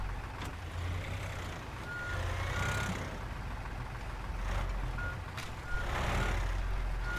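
A truck's reversing alarm in the video game Teardown, evenly spaced beeps over a rumbling engine and wet, noisy surroundings.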